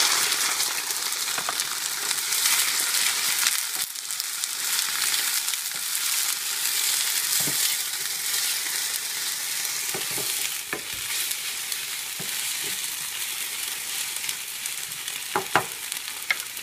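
Onions stewing in a hot pan as a hot dog topping give a steady, close sizzle with occasional stirring scrapes and small crackles, with no talking.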